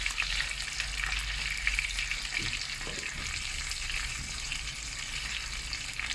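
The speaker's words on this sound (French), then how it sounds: "Je les fais cuire des deux côtés." Chicken rolls fry in a pan, filling the clip with a steady, dense sizzle that continues unbroken at a moderate level, with only faint incidental knocks and no voices.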